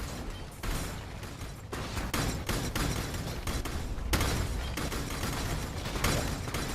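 Winter Orb spells being cast in the video game Path of Exile, a dense, continuous stream of crackling icy bursts and impacts with sharp pops recurring every second or so.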